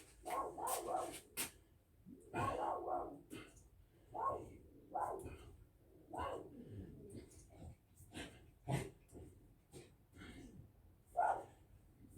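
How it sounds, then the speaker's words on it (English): Dogs bark in agitated bursts, set off by cats outside: a series of close, moderately loud yaps and woofs spread unevenly over twelve seconds, with snorting breaths between them. "The cats are freaking out outside today, so the dogs are going mad."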